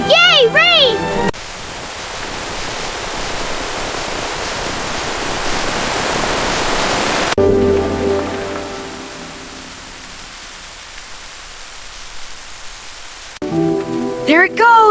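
Steady rain falls in an animated village, a dense even hiss that swells and then softens over several seconds. Excited children's voices break in briefly at the start and again at the end.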